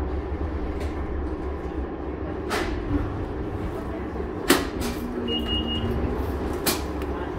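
Siemens U2 train car 2044 on the Blueline, heard from inside while riding. Steady low rumble with occasional sharp clanks and thumps.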